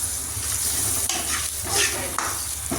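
Stirring spices and asafoetida for rasam in a frying pan: a spoon scrapes and clinks against the pan over a steady sizzle of hot oil, up close, with no talking.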